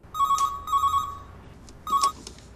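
A telephone rings as a call is placed to a girlfriend, giving three bursts of a bright electronic double-tone ring spaced about a second apart, fairly close and clear, with no one talking.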